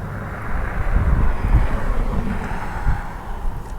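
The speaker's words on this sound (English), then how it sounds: "What plane is that one coming?" Airliner passing over the north 24 left runway at LAX, a loud broad roaring rush of jet noise mixed with wind buffeting on the microphone, steady throughout with no talk.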